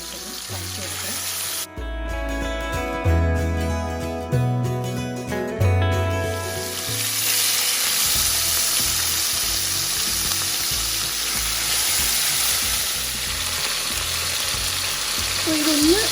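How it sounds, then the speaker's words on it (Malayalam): Chicken shallow-fried in a little sunflower oil for a pineapple chicken stew, heard as a steady, close crackling sizzle with stirring. Background music plays for the first half, then the frying continues alone. "ഈ ചിക്കൻ ഒന്ന് ഷാലോ ഫ്രൈ എടുത്താൽ മതി"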